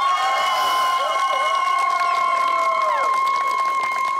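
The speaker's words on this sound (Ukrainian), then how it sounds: "Ваші оплески Віктору." An outdoor karaoke audience on a town square cheers and applauds for contestant Viktor, a sustained wash of crowd noise with high shouts and whoops carrying over it.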